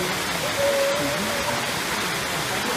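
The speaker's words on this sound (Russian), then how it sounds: "Водопад очень красивый." A waterfall near Lake Issyk-Kul pours in a steady, broadband rushing roar, close and constant throughout with no break.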